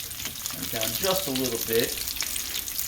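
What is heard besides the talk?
chicken cutlets frying in a pan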